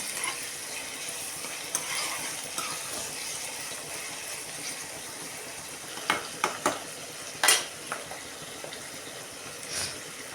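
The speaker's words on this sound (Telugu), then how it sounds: "ఒకసేపు అయితే మగ్గిద్దామండి ఉల్లిపాయలు" Chopped onions sautéing in a pan on the stove for an amaranth leaf curry, a soft continuous sizzle with occasional stirring clinks and scrapes of a spoon against the pan, close and fairly quiet.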